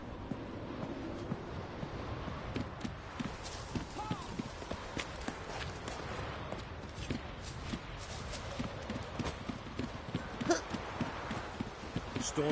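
Horse hooves clip-clop at a steady walking rhythm in The Witcher 3: Wild Hunt, set against a wind-like ambient background, fairly quiet and continuous throughout.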